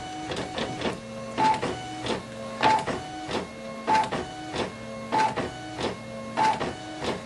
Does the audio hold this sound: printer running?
yes